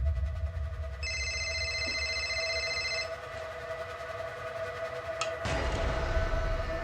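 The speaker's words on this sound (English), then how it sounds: "The phone rings." An old-style telephone bell rings in a burst of about two seconds, fairly clear over a low room hum, followed by a sharp click and handling noise as the receiver is picked up.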